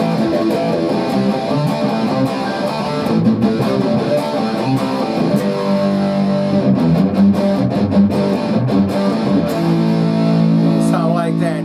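A Gibson Les Paul electric guitar plays through heavy distortion, dense sustained chords and riffs ringing out loud and steady without pause.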